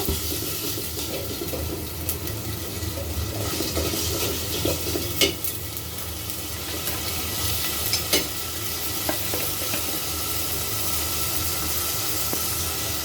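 Pieces of desi chicken fry over low heat with cumin paste in a pan, giving a steady, close, loud sizzle with occasional stirring scrapes and no voices.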